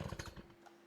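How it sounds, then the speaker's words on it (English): A chainsaw winds down and cuts off, a game sound-effect asset for an animated chainsaw: a dense, rough engine rattle for about half a second that drops away abruptly into a faint, fading tail. "and chainsaw stop"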